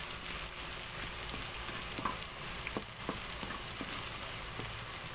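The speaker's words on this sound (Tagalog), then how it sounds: "Mas maganda 5-9 yung ginigisa ng ating ricado para lumbas yung aroma." Garlic and spices sautéing in a pan give a continuous dense hiss of frying oil with a few faint clinks of stirring, close and even throughout, no voices.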